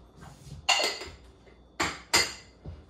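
A utensil stirs about three tablespoons of salt into a mixing bowl, making several distinct clinking knocks against the bowl, a few loud strikes spaced irregularly with softer scraping between them, close up and without talk.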